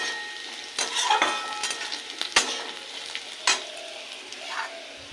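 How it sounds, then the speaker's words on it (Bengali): Cubed potato being stirred into poppy seeds already fried in oil in a pan, a steady close sizzle broken by several sharp scrapes and clinks of the spoon, with no talking. "এবার আলুটা মিশিয়ে দেবো।"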